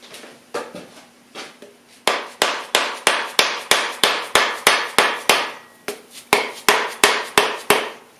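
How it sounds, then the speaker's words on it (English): A dead blow hammer strikes again and again, first in a few softer scattered hits, then in a loud, steady run of evenly spaced blows about three per second, with a short pause before the pounding resumes. "Grab a dead blow hammer."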